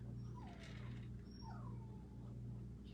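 High, thin whimpers and whines from caged puppies rise and fall a few times over a constant low hum, fairly faint and not too close.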